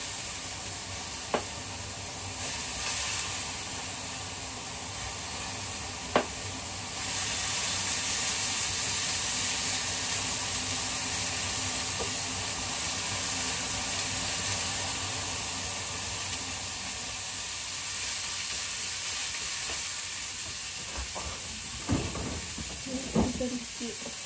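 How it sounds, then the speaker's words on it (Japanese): Food stir-frying in a hot pan gives a continuous, moderately quiet sizzle and hiss, with occasional light clatters and soft voices in the background. "並行して炒め物やらないと間に合わなくなってきたのね"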